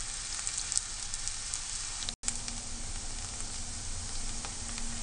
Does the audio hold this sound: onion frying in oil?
yes